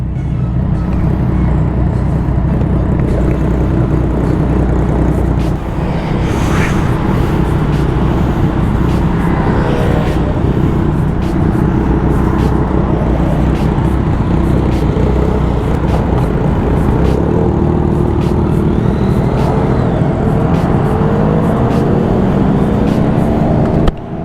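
A Yamaha MT-07 motorcycle heads out on the road near Pattaya, Thailand, its engine and wind rumbling steadily and loudly for the whole stretch with no break and no voices.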